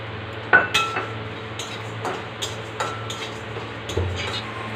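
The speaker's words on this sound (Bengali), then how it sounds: "এবার আমি কিছু মশলা ড্রাই রোস্ট করে নেব জিরে মৌরি ধনে ইলাইচি লং আর সঙ্গে ছোট্ট একটা দালচিনি" Whole spices, cumin, fennel, coriander, cardamom, cloves and a small piece of cinnamon, dry roast in a pan on a gas stove, heard as a series of close metallic clinks and scrapes from stirring over a low steady hum.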